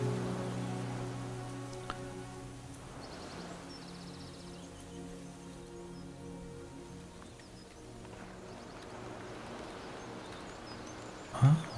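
Rain patters steadily outdoors in the game Unveil, a soft continuous wash of drops with a low tonal hum beneath and a sharp knock near the end.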